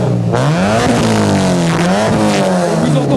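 A loud, tuned car exhaust revs up and down close by at an exhaust-sound contest, its deep rasping roar rising and falling in pitch with each blip.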